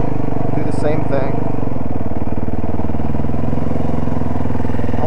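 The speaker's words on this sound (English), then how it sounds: "I can hear the RPMs going down every time I touch the rear brake" A motorcycle engine runs loud and close throughout, its revs rising and dipping as the rider works the rear brake during wheelie-control practice, with a voice faintly underneath.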